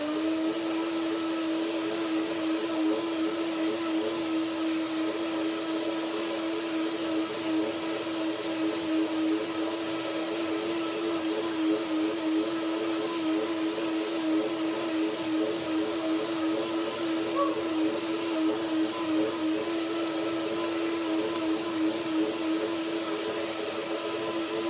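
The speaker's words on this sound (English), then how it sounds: "So now I blend it a second time." Blender running continuously while blending a cherry and banana fruit salad dressing, a steady whirring motor hum with no pauses, moderately loud and alone.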